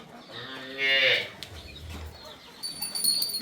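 A Punganur cow gives one loud, close moo lasting about half a second, followed by low background noise and a few faint thin tones.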